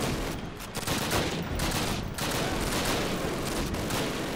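Gunfire in Call of Duty: United Offensive, a dense, loud, continuous fusillade of overlapping rifle and machine-gun shots with no pauses.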